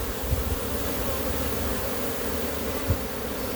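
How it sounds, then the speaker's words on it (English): A calm honeybee swarm buzzes steadily and densely up close, a continuous loud drone with no voices, outdoors at head height. "These bees is pretty calm."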